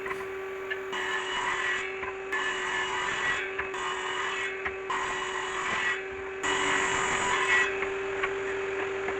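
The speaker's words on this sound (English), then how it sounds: "The lengths are now being ripped to 60 millimeters wide" A power saw rips old pallet wood into 60 mm wide lengths, a loud steady motor whine with repeated bursts of cutting noise as each pass goes through the board, separated by brief lulls.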